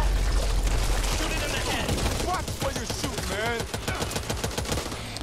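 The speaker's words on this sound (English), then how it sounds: "I wish this AK-47 had more ammo." Rapid AK-47 bursts in Back 4 Blood, sharp repeated shots in quick rhythm across several seconds, mixed with other game noises and chirpy effects.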